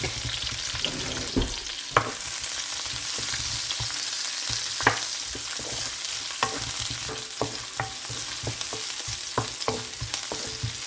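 Onion, ginger and garlic sauté in a hot pan for goat head soup, a steady broadband sizzle with intermittent clacks and scrapes of a utensil stirring, close and continuous throughout.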